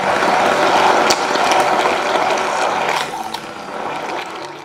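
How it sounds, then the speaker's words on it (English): A steady whirring, buzzing motor of a stick blender churning cheesecake filling with caster sugar, loud and continuous with slight fluctuations as it mixes. "And I'm going to mix it together with a stick blender."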